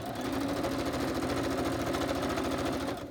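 A sewing machine runs steadily as it stitches tags made from old book pages. Its needle patters in a fast, even mechanical chatter, close by, for a few seconds with no voices before it winds down.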